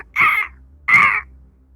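A human voice imitates a crow with two harsh, nasal caws in quick succession, close and loud, separated by a short pause.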